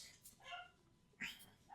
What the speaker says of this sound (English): You've got the dog barking in the background.